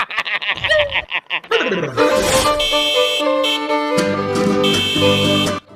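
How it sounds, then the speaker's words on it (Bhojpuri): A car horn honks near a film set, where a producer's Fortuner arrives; a couple of loud, sustained blasts stand out over voices and music, some overlapping. "ई कौन हॉर्न बजावता रे?"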